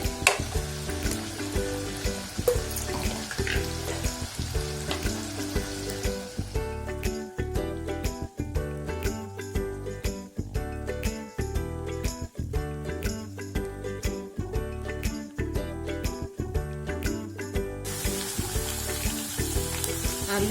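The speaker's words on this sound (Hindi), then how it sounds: "आलू को हम गोल्डन ब्राउन होने तक फ्राई करेंगे।" Potatoes frying in a pan for a North Indian dish, a steady, crackling sizzle that continues for about twenty seconds at an even level.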